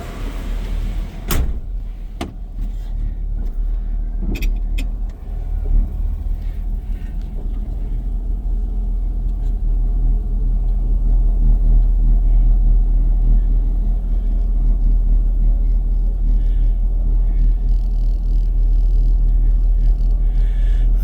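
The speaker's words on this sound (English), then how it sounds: "I'm going to try to give this truck a little test drive" A pickup truck with dual exhaust driving along, its steady low engine rumble filling the cabin throughout, with a couple of brief clicks near the start and no talking.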